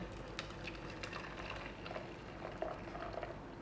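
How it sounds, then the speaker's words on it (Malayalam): Tea simmering in a pan on a stove, a low continuous bubbling hiss with faint pops, close up and steady throughout, with no voices. "അപ്പോൾ നന്നായിട്ട് നമ്മുടെ ചായ തിളച്ചിട്ടുണ്ട്"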